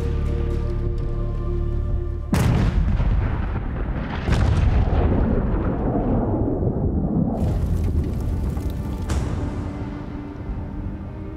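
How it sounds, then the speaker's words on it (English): Continuous heavy booming of a near-constant World War II artillery bombardment during Operation Barbarossa, loud dense rumbling with repeated sharp blasts layered over one another and no talk. "They're hammered with a near-constant artillery bombardment."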